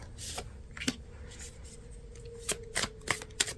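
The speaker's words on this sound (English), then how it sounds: "So as I'm shuffling out these cards" Tarot cards are shuffled by hand in soft, papery riffles and slides. Sharper snaps come in a cluster near the end, heard close over a faint steady hum with no talk.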